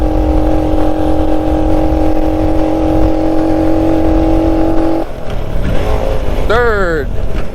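A 1969 Honda Trail CT90 motorcycle engine runs steadily in gear with a strong, even drone for about five seconds, then drops off as the rider shifts down, with a brief rising whine near the end.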